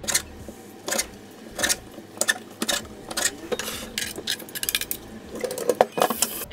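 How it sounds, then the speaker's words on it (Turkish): Knife cutting raw chicken on a cutting board in a home kitchen, with repeated sharp chopping knocks at an uneven rhythm, fairly close, plus clattering and squishy handling noises between the cuts. "ilk başta tavukları doğrama tahtasına alıp keseceğiz"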